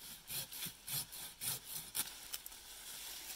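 A Silky Zubat arborist pruning handsaw cuts through a fruit tree branch with quick, rhythmic rasping strokes, about six firm pulls followed by a few lighter, scratchier ones, close and clear with no talking.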